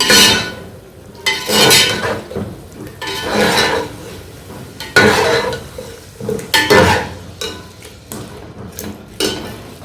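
Biryani ingredients stir-fried in a pot, with repeated loud metal spoon scrapes and clanks against the pot in an uneven rhythm over a soft frying sizzle, up close.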